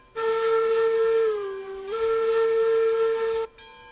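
A steam locomotive whistle in the game RailRoads Online blows two long, steady, chord-like tones separated by a brief dip in pitch, loud and close.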